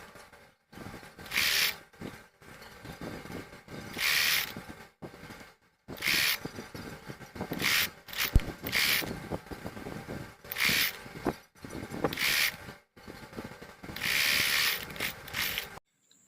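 Sewing machine stitching a simple blouse: rapid mechanical clatter in repeated runs of one to two seconds, broken by brief pauses, steady and close, with no talking.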